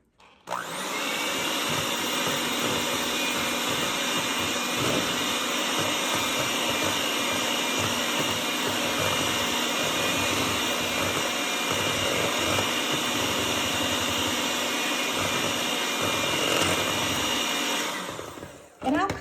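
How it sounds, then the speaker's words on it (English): Electric mixer creaming cookie dough for Cookie Monster cookies, a steady close whir running continuously for about seventeen seconds before cutting off. "so you don't have to listen to this mixer going in your ear"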